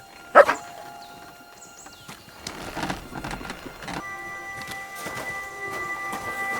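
Dog in the medieval video game Kingdom Come: Deliverance 2 giving a sharp bark near the start, then faint whines and yips among game ambience and clatter, with no talking.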